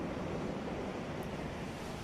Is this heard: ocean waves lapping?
yes